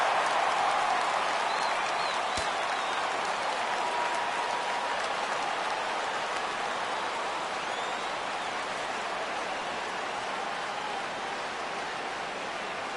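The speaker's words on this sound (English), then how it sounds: "Crowd gets up for the 3-2." Stadium crowd noise in the baseball game MLB The Show, a steady, dense roar of many voices that swells slightly as fans rise for a full count, heard as constant background without clear commentary.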